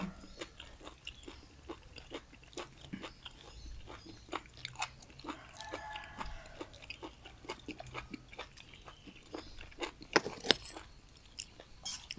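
Close-mic chewing of tough raw beef, with wet, smacking bites and crunchy clicks repeating irregularly over twelve seconds and no talk.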